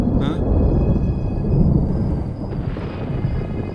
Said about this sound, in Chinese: 那边要下雨了